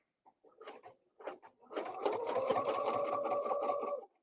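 Quilting machine stitching along an Elevate ruler template, a few short stitch bursts followed by a steady two-second run of rapid mechanical clatter, close by.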